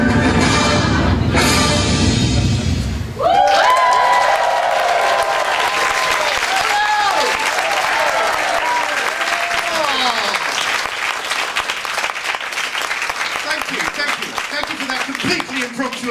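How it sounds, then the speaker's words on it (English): A comedy club audience breaks into loud, sustained applause that swells and holds for several seconds, a dense roar of clapping with cheers, while a comedian speaks over it. "Applause."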